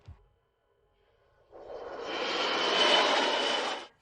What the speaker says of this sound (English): Once the plane takes off